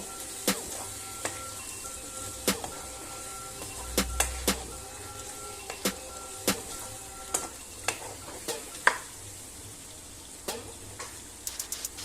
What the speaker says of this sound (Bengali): এবার চিংড়ি মাছগুলো মিশিয়ে দেব।